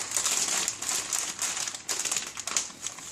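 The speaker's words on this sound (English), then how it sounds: "so you have to kind of crumple it up at the top" A squeezed plastic bag of microwave caramel is crumpled at the top, giving close, bursty crinkling and crackling in irregular clusters with no speech.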